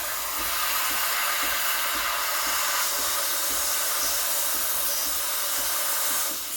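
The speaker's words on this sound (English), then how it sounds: "I'm gonna dunk it sort of close to the surface. I want to hear that hissing sound." The steam wand of a Breville Barista Express BES870 espresso machine hisses steadily while steaming milk in a jug, a loud, continuous close-up hiss with faint rhythmic gurgling underneath.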